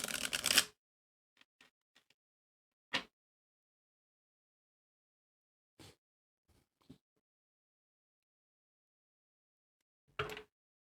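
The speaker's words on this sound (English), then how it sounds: "let me shuffle these oracle cards" A few short, crisp riffles and slaps of oracle cards being shuffled, separated by pauses of near silence, close up and fairly quiet.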